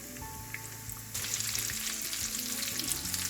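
Mashed potato rolls frying in a pan give a close, steady sizzle that grows suddenly louder partway through and then holds, with faint stirring and no talk.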